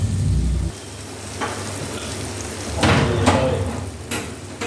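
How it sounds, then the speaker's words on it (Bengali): Onion and tomato frying in a pan with turmeric, a steady sizzle with occasional stirring scrapes and a couple of louder bursts, close and without talk. "একটু ভালো করে ভেজে নিই"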